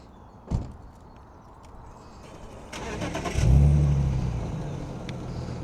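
A car passes near a street in Amersham, Buckinghamshire, its engine noise rising to a loud close pass and then fading, after a brief thump near the start, over wind and background hum.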